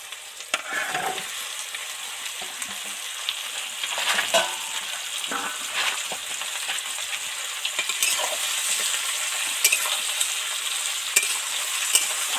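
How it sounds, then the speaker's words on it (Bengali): Mixed vegetables tossed into deep-fried onions and stirred for a Bengali labra, giving a steady close sizzle broken by repeated scraping and clattering strokes of the spoon, with no talking. "পেঁয়াজগুলি তো ডিপ ফ্রাই করে ভেজে নিলাম দারুণ একটা মিষ্টি গন্ধ বেরিয়েছে এবার এর মধ্যে সব অন্য সবজিগুলো দিয়ে দেবো"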